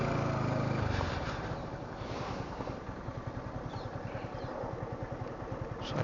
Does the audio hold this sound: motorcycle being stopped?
yes